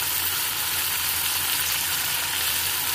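Chopped tomatoes hit softened onions frying in a pan for a taro root curry, giving a steady, close, even sizzle that runs the whole time with no voices.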